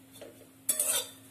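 Grated coconut roasting in a pan as a spoon stirs it, one soft scrape followed by a short, brighter metallic scrape, close and brief over a faint low hum.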